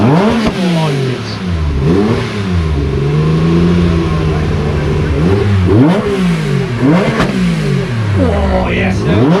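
A classic British car engine at a Mini, Metro, Leyland and BMC show revs hard several times, its pitch climbing steeply toward 9,000 rpm and falling back between blips, loud and close throughout.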